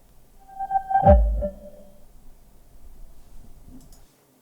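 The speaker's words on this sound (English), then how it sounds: "a sample of our Harman Kardon Bluetooth speaker firing up and connecting" A Harman Kardon Bluetooth speaker powers up and connects, giving a short chiming electronic tone with a low thump about a second in. The tone fades into a soft hum, and a faint second blip follows near the end.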